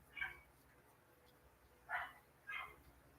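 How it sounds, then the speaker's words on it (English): Dogs bark three times, once early and then a quick pair near the end. The barks sound faint and somewhat distant against a quiet background, with no talking. "Your dogs are barking at my dogs."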